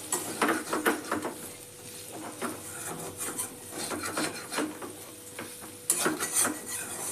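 Chicken mince scraped and stirred in a frying pan, with repeated rasping strokes of a spatula against the pan over a faint background, steady and close throughout.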